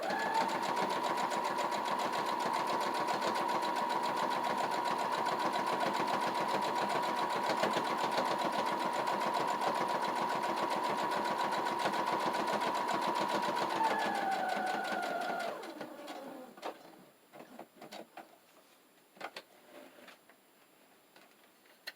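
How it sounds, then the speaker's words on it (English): A sewing machine stitches a quilt-as-you-go mug rug, running in a loud, steady continuous whir for about fifteen seconds before slowing and stopping, followed by a few faint clicks and handling sounds. "make sure you're sewing against this seam, not going with it, not head on with it"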